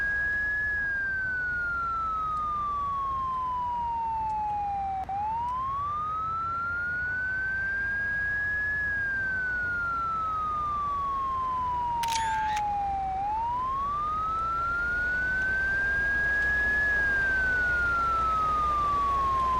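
Police car sirens in the Euro Truck Simulator 2 video game, wailing in a steady loud rise-and-fall cycle about every eight seconds over a low engine rumble, with a brief sharp electronic blip in the middle.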